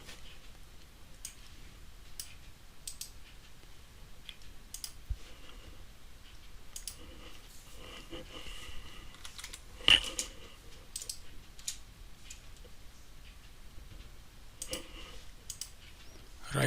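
Computer keyboard typing while writing a PowerShell script, sparse bursts of quiet close clicks scattered across the stretch, with one sharper tap midway, and no speech over it.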